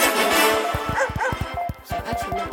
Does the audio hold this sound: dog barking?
yes